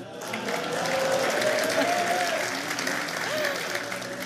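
A studio audience on an Algerian TV entertainment show claps loudly and continuously, with a voice audible over the applause.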